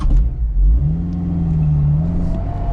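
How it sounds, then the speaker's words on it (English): A manual-transmission car's engine, out of gear in neutral with the clutch in, is blipped on the throttle, rising in a loud, close rev that holds and then settles back to idle. "Clutch in, neutral so it doesn't stall out. And you can also blip the throttle."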